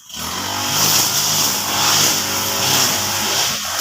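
A garden clearing machine runs steadily, its small engine giving off a loud, continuous buzzing whine that rises and falls slightly as it cuts through overgrown grass and brush, with no talking.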